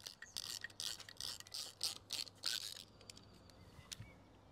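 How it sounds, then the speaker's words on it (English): Screws are driven in by hand to attach a solar security camera bracket to a drilled and plugged wall, giving close, rhythmic grinding and ratcheting turns that fade to quieter handling near the end. "all we've got to do now is attach the bracket with these three supplied screws"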